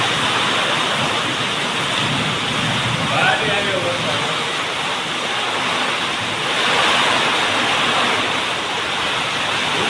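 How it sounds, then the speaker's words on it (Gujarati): Heavy rain pours down during a windy storm with hail and thunder, a thick, steady hiss and roar that holds at full strength throughout, with a faint voice briefly heard beneath it. "પાછો વધ્યો વરસાદ જો."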